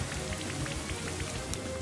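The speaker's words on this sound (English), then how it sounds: "I don't see any other reason for it to use Rain Dance." Rain from the Rain Dance move in Pokemon Brilliant Diamond, a steady dense patter of falling drops with soft rhythmic taps beneath, continuous and without voices.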